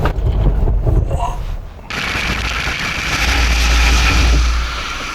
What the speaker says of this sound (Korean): 타이어 소음 좀 올라와요